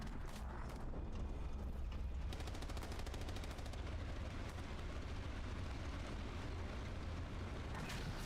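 Gunfire hitting a tank in a video game, faint dense metallic pinging and a quick rapid burst of shots over low rumbling, no talk.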